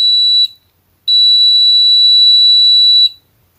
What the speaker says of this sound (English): When you press the switch, you should hear a buzzer.